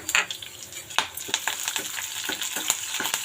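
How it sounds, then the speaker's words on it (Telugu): Lentils, green chillies and curry leaves frying in oil, a close crackling sizzle with a series of sharp stirring scrapes and pops coming roughly every half second. "చూడండి, పప్పులు వేగిపోతున్నాయి కదా"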